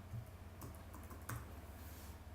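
A computer keyboard is typed on in a short, quiet run of soft keystrokes, faint beneath a steady hiss of background noise.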